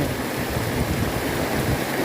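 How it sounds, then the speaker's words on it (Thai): Heavy rain pours down in a constant, dense hiss with gusty wind roar, loud and unbroken, no voices. "ฝนก็เทลงมานะครับ"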